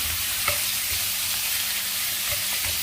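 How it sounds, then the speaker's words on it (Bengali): Duck meat frying in mustard oil gives a steady, even sizzle with a few soft stir clicks, close and continuous, with no talking. "দেখুন আমরা ভাজছি"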